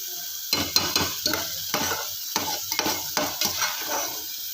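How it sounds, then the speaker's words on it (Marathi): Spiced masala sautéing in a deep cooking pot for a bombil (Bombay duck) curry: a constant sizzle with rhythmic scraping and clatter from stirring, close up and with no voices. "छान असा परतू देते या मसाल्याला"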